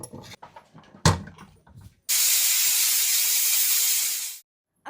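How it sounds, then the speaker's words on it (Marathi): A pressure cooker steaming seafood popti layered with leaves vents a loud, steady hiss of steam for about two seconds, following a few brief clatters and thuds, then cuts off abruptly. "कुकर लावून घ्यायचं आपल्याला."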